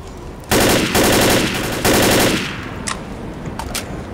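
Loud M16 rifle bursts in the zombie shooter Left 4 Dead, three close, heavy volleys of rapid fire in the first half, trailing off into fainter scattered shots and a few sharp reports.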